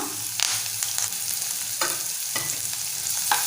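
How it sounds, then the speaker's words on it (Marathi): Finely chopped onion and curry leaves fry in oil for a bitter gourd dish, a soft steady sizzle punctuated by a few distinct spatula scrapes at intervals. "छान परतून घेऊया कांदा आपण थोडासा नरम होईपर्यंत परतून घेऊया"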